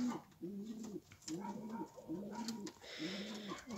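Pigeons coo in a loft during breeding season, a close, steady series of four low rhythmic coos repeating about once a second, with faint rustling in the background and no talking.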